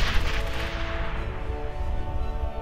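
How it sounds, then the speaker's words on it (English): A loud burst of gunfire and explosion from the World War II shooter Brothers in Arms: Hell's Highway hits at the start, then fades into a rumbling, crackling battle tail. "Gunshots and explosions pack a real punch"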